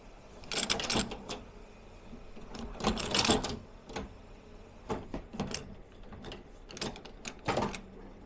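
A boot welt stitching machine sews a Red Wing 8088 Iron Ranger boot, giving off bursts of rapid mechanical clatter separated by quieter pauses, irregular and fairly close.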